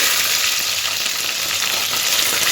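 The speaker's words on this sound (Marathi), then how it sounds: "थोडंसं तळून घ्यायचं वरनं कडीपत्त्याचा तडका मारायचा" Curry leaves and green chili fry in hot oil, a steady dense sizzle that holds loud and even throughout without a break.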